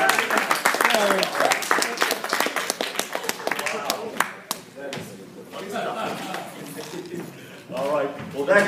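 Applause from the audience at a comedy show: dense, loud clapping fills the first seconds and then thins into scattered claps and crowd noise before a voice speaks.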